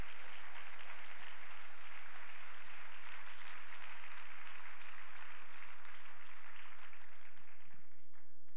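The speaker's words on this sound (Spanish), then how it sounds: "Denle un aplauso al Dios soberano." A church congregation applauds in a sustained, dense wash of clapping that stays loud and steady throughout, with faint voices mixed in.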